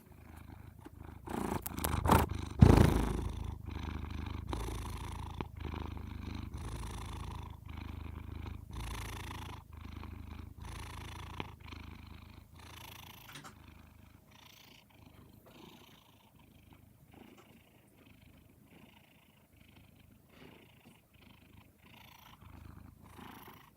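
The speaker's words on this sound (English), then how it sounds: "purring is the best kind of ASMR" A pet cat purrs close to the microphone in a steady rhythmic rumble, loudest early on with a brief louder burst, then softening and continuing quietly for a long stretch.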